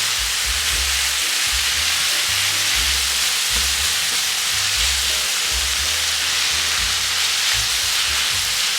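Sliced onions sizzle loudly in a pan while being stir-fried for japchae, a dense continuous hiss and crackle with low rumbling stirring beneath and no talking.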